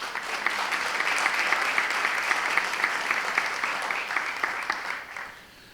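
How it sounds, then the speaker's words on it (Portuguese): A seated audience applauds during a public-sector integrity management presentation, a sustained wash of clapping from many hands that tapers off and fades out in the final second. "Bia Chaves, que também merece uma salva de palmas."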